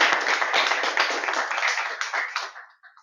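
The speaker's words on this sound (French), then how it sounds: "On peut encore applaudir" Audience at a Toastmasters club session breaks into a burst of clapping that holds steady, then thins out and fades to a few scattered claps near the end.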